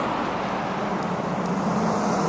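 A car slowing as it approaches a roadside radar speed sign, its steady broadband road and engine rumble holding throughout, fairly close and alone without talk.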